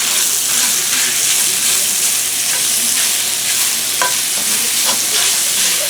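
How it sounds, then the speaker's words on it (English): Chopped cheap, fatty bacon fries in a hot pan, giving a steady, dense crackling sizzle that stays loud and even throughout, with a few sharper pops and a faint scrape of stirring. "We want to make the bacon as crispy as we can without burning it."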